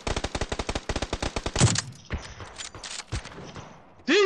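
Rapid rhythmic gunshots from a Desert Eagle pistol in PUBG, a tight string of sharp cracks close up that tapers into scattered fainter shots and mechanical clatter, ending in a brief burst of noise.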